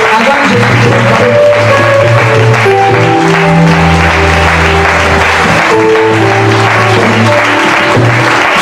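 A church congregation applauding God during a Sunday worship service, loud sustained clapping from a large crowd, with musical tones underneath throughout.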